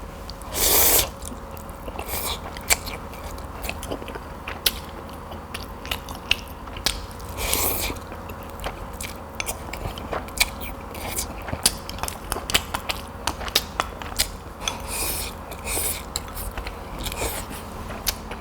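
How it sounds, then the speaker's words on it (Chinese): Sichuan Yibin burning noodles, a dry-mixed noodle dish, are eaten with close, wet slurps, bites and chewing. The sounds come in repeated bursts and irregular clicks across a long stretch, with no talk. "现在该我来吃了啊"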